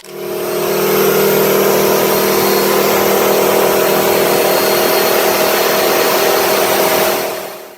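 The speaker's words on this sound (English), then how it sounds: "the sound was unmistakable, that screaming Detroit wail at full throttle." A Detroit Diesel two-stroke engine screams at full throttle, a loud, sustained, steady high-pitched wail with a buzzing mechanical drone, holding constant for several seconds without voices.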